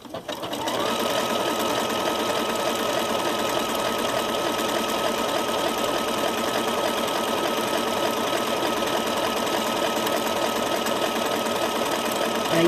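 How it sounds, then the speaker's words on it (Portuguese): A sewing machine stitches fabric with a steady, fast, close mechanical whirr that runs unbroken for the whole stretch after a brief start. "Aí a gente vai costurando."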